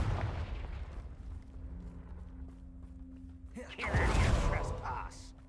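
A Confringo fire-blast spell from the video game Hogwarts Legacy lands as a loud, rumbling explosion near the end, after a stretch of quieter game ambience with low tones.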